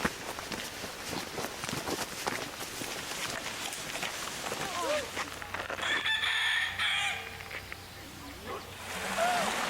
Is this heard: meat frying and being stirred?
no